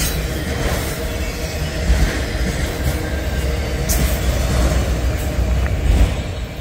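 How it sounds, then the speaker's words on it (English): A locomotive-hauled train passes heading northbound, a steady rumbling roar of wheels and cars holding at moderate loudness throughout with occasional faint squeals, no voices. "Locomotive!"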